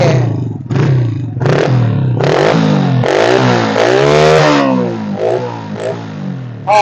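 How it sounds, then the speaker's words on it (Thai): A hand-start converted Honda Wave 125i motorcycle engine fires up and revs repeatedly close by, rising and falling in loud bursts with brief pauses between throttle blips. "เดี๋ยวผมจะไปติดเครื่องให้เพื่อนๆได้ชมกันคันนี้แปลงสตาร์ทมือ"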